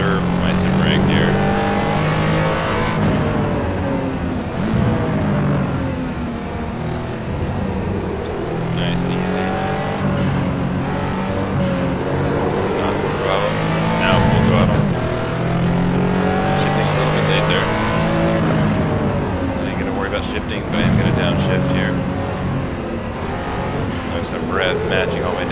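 Engine of a 1987 RUF CTR Yellowbird in the Assetto Corsa racing sim, loud and continuous as it revs up and blips through repeated downshifts, with tire noise and a voice speaking over it.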